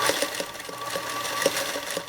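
A sewing machine stitching in the ditch along the seams of a quilt, running at a quick, even pace with rapid rhythmic needle thumps close by and no voices.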